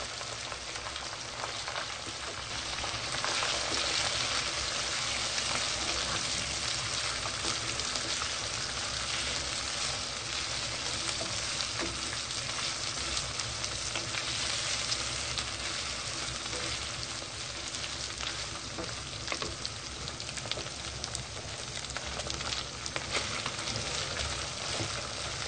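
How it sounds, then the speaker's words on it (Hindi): Chicken fries with ginger garlic paste in a continuous loud, dense sizzle, like heavy rain, close and unbroken for the whole stretch with faint stirring. "अदरक और लहसुन का पेस्ट डाल देंगे।"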